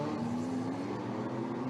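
Historic rally cars at a Circuit des Remparts demonstration run, engines droning steadily with a slowly rising whine, moderately loud and continuous, heard without talk.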